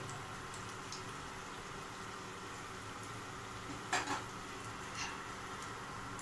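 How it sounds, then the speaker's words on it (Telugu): Lentil snacks (pappu sukeelu) frying in hot oil in a village kitchen, a steady soft sizzle with a couple of brief scraping stirs near the middle, no talking. "వేగుతూ ఉన్నాయి తిప్పుకుంటా ఉన్నాడు"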